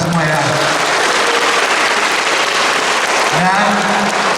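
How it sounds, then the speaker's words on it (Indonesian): Applause from an audience at an Indonesian government ceremony where PPPK appointment decrees are handed to PKH social assistance staff, a steady dense wash of clapping with a voice briefly heard at the start and end. "tepuk tangan buat kita semua ya."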